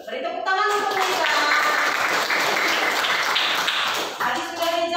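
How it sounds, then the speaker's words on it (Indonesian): A classroom of students claps for a classmate, a dense burst of applause that starts abruptly, holds steady for about four seconds and then tapers into scattered claps, with voices speaking at the start and end. "Beri tepuk tangan untuk Lisa"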